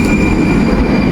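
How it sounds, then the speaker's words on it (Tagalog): A tram in the Czech Republic slows toward a stop, giving a short, loud rumble of rail wheels with a thin, steady squeal over it. "Ayan pahinto na yung tram doon."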